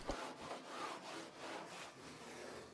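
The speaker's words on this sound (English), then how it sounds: "round with a 60 grit sandpaper on a sanding" Rhythmic strokes of 60-grit sandpaper on a sanding block rasp back and forth across a wooden canoe hull, a steady scratchy rubbing at a quiet level with no voices.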